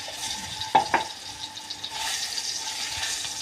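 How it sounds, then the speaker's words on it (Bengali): Potatoes frying in mustard oil in a wok give a soft, steady sizzle, with two brief louder clatters early on, probably from stirring or dropping pieces in, and no talking. "আলুগুলো ভেজে নেবো।"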